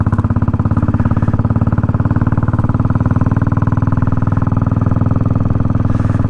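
A Royal Enfield 350 Bullet motorcycle engine runs steadily and loudly up close, its deep, even thumping pulse unbroken throughout.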